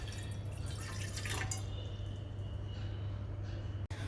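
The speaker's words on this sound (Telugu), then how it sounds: "1 కప్ వాటర్ వేసుకోవాలి." A cup of water goes into a pot on the stove for mint tea. It sounds like a brief splashing pour that trickles off into faint drips over a low steady hum.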